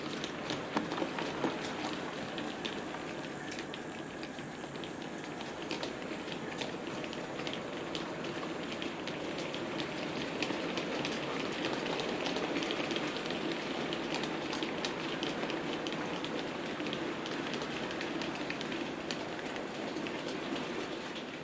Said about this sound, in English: showing you the backwards performance, pulling a heavy coal train.